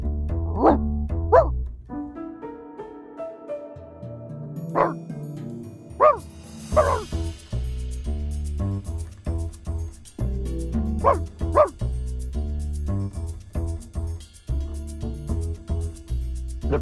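A puppy in the video game Reverse 1999 yips and barks in a string of sharp, close calls with whimpering between them, over a steady musical background.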